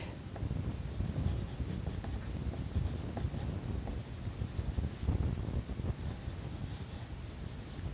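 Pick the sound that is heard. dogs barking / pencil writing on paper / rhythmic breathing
pencil writing on paper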